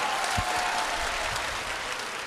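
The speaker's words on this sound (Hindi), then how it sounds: "तो एक बार जोरदार ताली बजाओ।" An audience at a Bageshwar Dham religious gathering breaks into sustained, even applause from many hands, loud and continuous throughout with no talking.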